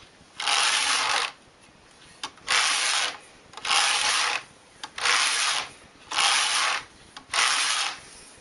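A home knitting machine works two strands of yarn drawn from one cone, its carriage sliding back and forth in six even, rasping passes of about a second each, with brief clicks between strokes.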